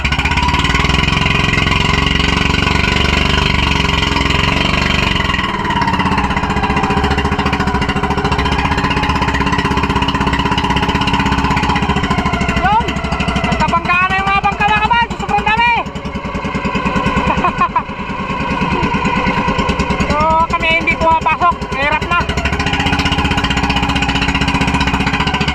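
Engines of many fishing boats crowded together at sea, a dense, loud continuous drone with overlapping motor tones, with people talking over it at times.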